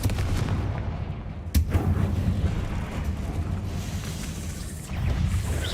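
Booming blast from a Confringo fire spell in the video game Hogwarts Legacy, a loud explosive burst around the middle followed by rumbling roar and crackle that fades, with a second swell near the end.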